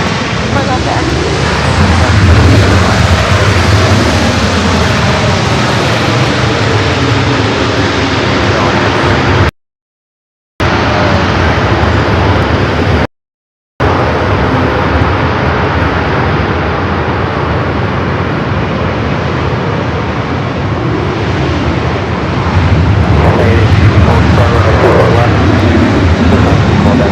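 A United Boeing 787 Dreamliner departs LAX bound for Tokyo Narita, a loud sustained jet roar broken by two brief dropouts, with voices heard over it.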